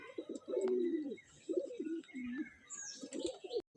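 Pet pigeons, including lotan pigeons, coo in repeated low rolling phrases, fairly close, with faint chirps and other birds in the background and no talk.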